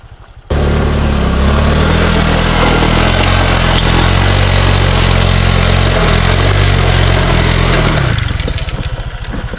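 A small scooter engine runs loudly and close up, a steady droning hum that starts abruptly and eases off near the end.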